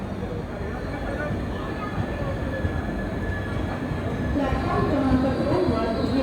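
The Deccan Janshatabdi Express pulls out of Kasara station with banker locomotives attached, giving a steady, loud rumble of wheels and carriages that swells slightly toward the end, heard from on board.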